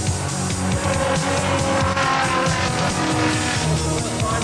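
Several saloon racing car engines roar and snarl together at high revs, racing door handle to door handle, steady and loud, with tyres squealing now and then.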